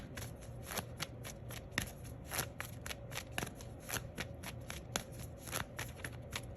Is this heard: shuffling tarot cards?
yes